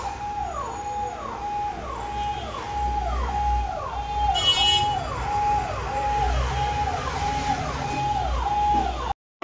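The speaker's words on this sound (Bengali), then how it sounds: "সারাদিন অ্যাম্বুলেন্সের আওয়াজ হয়" An ambulance siren sounds on a street near a hospital. Its rising and falling wail repeats in a steady rhythm, close and loud, for almost the whole stretch before it cuts off abruptly.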